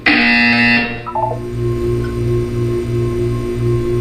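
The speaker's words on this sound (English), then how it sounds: "You will hear a buzzer." In the video game Portal 2, a harsh electronic buzzer blares for about a second, then a few short blips follow over a low, pulsing electronic hum.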